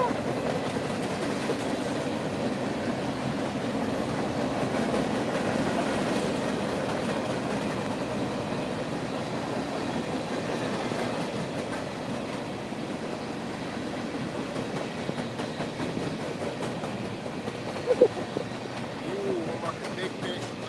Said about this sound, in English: we got a train coming through